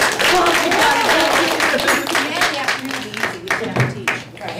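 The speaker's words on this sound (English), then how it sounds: "Can we give them a round of applause?" Elementary school audience applauding presenters, dense loud clapping at first that becomes more scattered and sparse, with talking mixed in toward the end.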